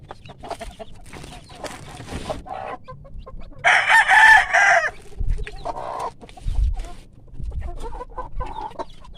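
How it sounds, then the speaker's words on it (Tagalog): Chickens cluck nearby, and a rooster lets out one loud crow partway through, among scattered softer clucks and rustling. "So ayan yung mga alaga kong mga manok."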